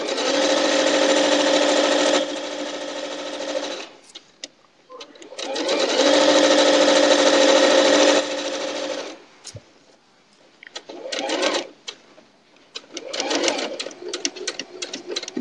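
Sewing machine stitching pieces of a log cabin quilt, running in two long steady bursts of rapid mechanical whirring, then slowing to short stop-start runs as it sews over pins.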